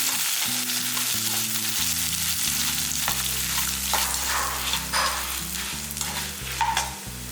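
Dried red chillies and a bay leaf fry in hot oil, giving a steady, close sizzle with scraping stirs and light clinks from a spoon against the pan throughout, and steady tonal music playing underneath.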